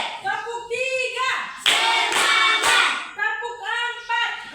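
A group claps hands in a classroom clap routine, a short burst of rhythmic claps in the middle, with children's chanting voices before and after.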